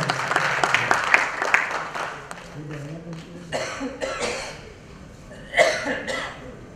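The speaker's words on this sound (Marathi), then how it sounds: "जोरदार टाळ्यांचा कडकडाट" An audience claps for a guest being called up on stage at a film event, with bursts of applause and a few coughs mixed in among voices talking nearby.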